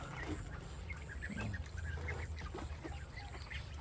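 Ducks on a spring-fed pond give a low chatter of quacks and soft calls over a constant outdoor hum, fairly faint and somewhat distant, with no one speaking.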